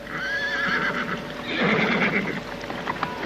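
Horses neigh and whinny loudly amid a flood scene in an audio drama, with shrill rising calls over a dense, noisy background and faint hoof clatter.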